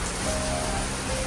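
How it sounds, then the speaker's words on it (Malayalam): Rain falls steadily outdoors as a dense, even hiss that stays constant and close for a short stretch, with no voices over it. "മഴ മഴ മഴ"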